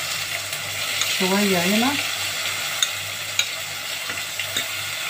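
A fish spice mixture sizzles in a hot pan while being stirred, a steady frying hiss with scraping stirs and a few sharp clinks of the utensil, a brief voice speaking over it.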